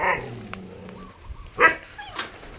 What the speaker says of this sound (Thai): เห่าทำไมล่ะจ๊ะ